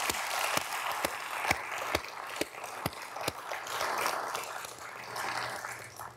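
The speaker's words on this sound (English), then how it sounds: "Let's give applause to our research community." An audience at a university leadership address applauds in a dense, steady wash of clapping, with a few sharp, regularly spaced nearby claps standing out.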